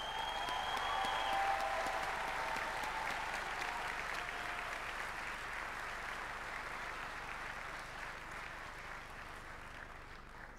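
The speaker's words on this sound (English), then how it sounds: "Let's give them a round of applause, please." A large crowd at a university graduation ceremony gives a sustained round of applause, a steady, even wash of clapping for over ten seconds, fading slightly toward the end.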